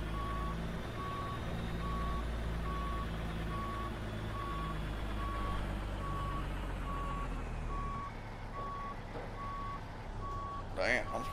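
A truck's reversing alarm beeps steadily at a regular rhythm over a loud, constant diesel engine rumble, with a brief clatter near the end.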